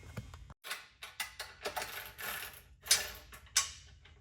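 M10 bolts are tightened on an aluminum front bumper for a Jeep JL/JT, with a series of sharp ratcheting clicks and metallic clacks in quick irregular bursts, close and fairly loud.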